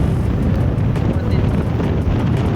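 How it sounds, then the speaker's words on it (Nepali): Steady wind rushes and buffets loudly across the microphone throughout, a constant roaring noise with no pauses, at Bojini Dam. "हावा चलिरहेको छ सरर धेरै नै शीतल भएको छ"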